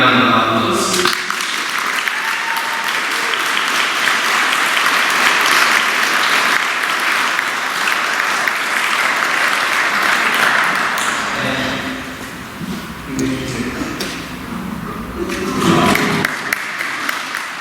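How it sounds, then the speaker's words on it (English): Wedding guests break into a long, full round of applause right after the church vows and blessing, loud and steady for about ten seconds, then thinning into scattered claps before swelling briefly again. "We'll give it a round of applause."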